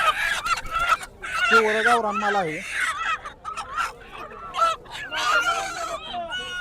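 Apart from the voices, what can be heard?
native country chickens at a poultry market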